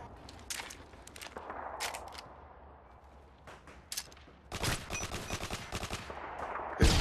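Gunfire in the Modern Warfare 2 video game: scattered single sharp shots early, then a dense run of rapid automatic bursts through the second half, fairly loud against a low background.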